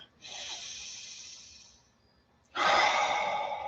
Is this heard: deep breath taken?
yes